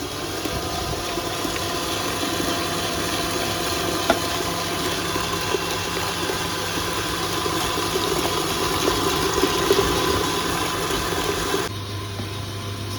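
An electric mixer whirs steadily as it beats egg yolks with sugar for tiramisu, a continuous close motor hum with a brief drop in tone near the end.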